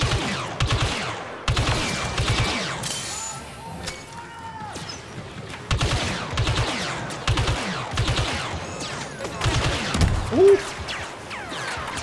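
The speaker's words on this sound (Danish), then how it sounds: "Ej, jeg bliver bare skudt fra altid." Star Wars Battlefront II blaster gunfire comes in rapid bursts of repeated shots, stopping and starting with brief pauses. A whine and some scattered battle noise sit between the volleys.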